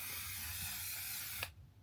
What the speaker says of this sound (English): Like, I just feel air, but it's actually spraying.